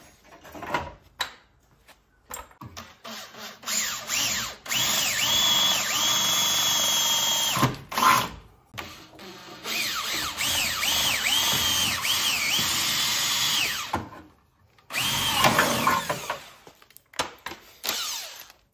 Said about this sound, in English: I'm going to drill these holes and mount this radiator